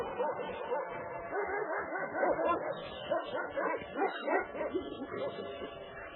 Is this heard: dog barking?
yes